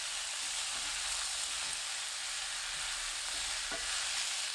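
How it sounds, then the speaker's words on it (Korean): Zucchini stir-fried over high heat with minced garlic, scallion and cooking oil, giving a steady close sizzle with light scraping and stirring knocks throughout, no voices. "애호박 넣고 센 불로 1분 볶습니다."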